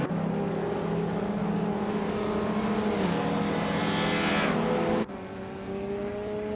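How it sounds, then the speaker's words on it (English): A 2015 Toyota Corolla racing in a video game, its engine droning loud and steady with rising and shifting harmonics, a sharp gear-change drop near the end before the revs climb again. "Liam is driving a 2015 Toyota Corolla and currently holds the lead"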